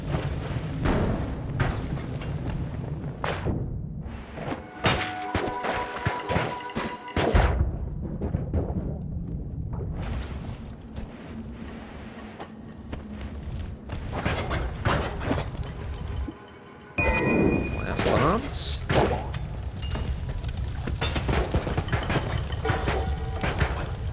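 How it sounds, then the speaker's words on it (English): Booms, crashes and muffled pops from the Noita video game come in repeated bursts over a rumbling background, with a brief drop to near silence partway through. "that didn't have like a really chunky explosion noise. It's more of just a very subdued pop"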